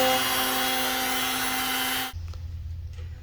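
Power tool routing a wooden bass guitar body, a loud steady whining roar that cuts off abruptly after about two seconds, leaving a low rumble and faint handling noise.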